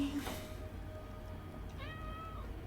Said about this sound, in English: You're such a cute kitty.